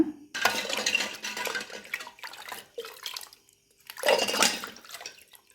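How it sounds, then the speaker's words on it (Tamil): Water sloshes and splashes in bursts as a silver puja lamp is rinsed, with clinks against the basin and brief pauses between washes. "நம்ம இன்னொரு தண்ணியில் நல்லா வாஷ் பண்ண போகிறோம் இதையே"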